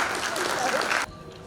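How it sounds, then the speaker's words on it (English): Audience applause at the opening of an architecture and interiors design debate event in Udaipur, India, a dense burst of clapping that runs for about a second and then cuts off abruptly, leaving quieter room tone. "Please give him a huge round of applause."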